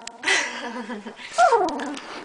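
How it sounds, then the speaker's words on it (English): A small dog makes whiny, whimpering yips and a low grumble, close by, in short bursts across a couple of seconds. "That one's growling."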